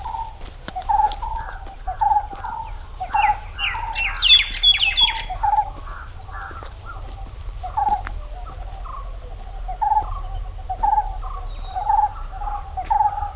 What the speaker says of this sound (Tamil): விதவிதமான குருவிகளோட சத்தம் வேறு லெவலாக இருக்குது.